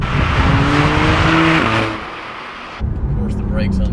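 A Porsche 991.2 with a PDK dual-clutch gearbox accelerating hard, engine note climbing then dropping sharply at a quick gear change before pulling again, loud and close with a voice talking over it.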